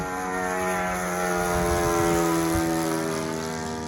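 A model airplane's OS 110 Alpha pumped four-stroke engine, in a Balsa USA Phaeton II, runs steadily and loud, a continuous buzzing drone with rich harmonics, no talking over it.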